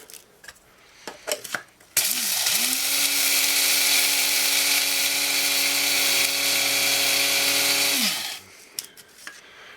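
Eggshells being ground into powder for garden fertilizer in an electric grinder, a loud steady whirring hum that spins up, runs continuously for about six seconds and winds down, with a few small knocks before and after.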